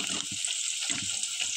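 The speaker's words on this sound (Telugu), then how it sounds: "ఎట్లా కాగుతుందో చూడండి, చలచల" Hair oil with herb leaves boiling in a pan, giving a steady, close hiss with faint crackling and bubbling throughout and no talking.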